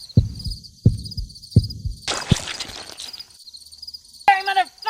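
A squeezed werewolf heart in a horror film gives a few slow, low thumping heartbeats, then a burst of noise and a brief rising creature cry, over a faint high insect-like drone.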